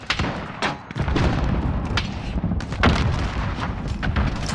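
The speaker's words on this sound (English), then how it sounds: "Throw a grenade!" Explosions and gunfire roar through a Call of Duty Modern Warfare (2019) multiplayer fight, with repeated loud booms and blasts overlapping in dense, continuous combat noise.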